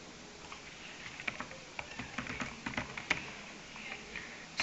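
Fingers tap on a computer keyboard in a quick, uneven run of light clicks, close and fairly quiet, with no talking.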